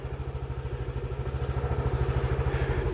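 A motorcycle engine runs at a fast, even idle during a cooling system flush, with a close, rhythmic pulsing putter that grows slightly louder toward the end.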